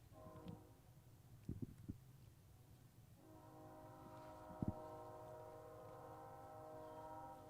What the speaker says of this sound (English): A little train horn distraction in the background here.